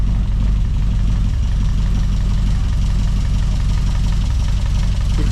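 A Classic Mini engine idles steadily during a brake servo vacuum leak check, a loud, even low rumble with a constant note throughout, no voices present.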